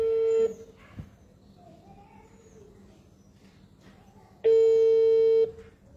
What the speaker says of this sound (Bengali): আমি এখন ফোন দেবো মেয়ের বাবার কাছে